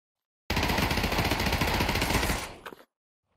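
A gun in the VR game Pavlov fires a long, rapid automatic burst of loud, dense shots that runs for about two seconds, then tapers off into a few trailing clicks, with no talking over it.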